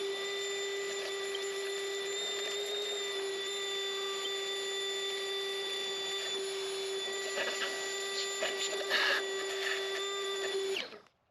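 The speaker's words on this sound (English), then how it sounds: "I like cleaning with a vacuum cleaner. So we'll just go around and just vacuum up all this dirt" A vacuum cleaner's steady, whining motor hum runs continuously as it sucks up dirt from a 2005-2007 Ford Freestar engine, with some scraping and rattling toward the end before it cuts off abruptly.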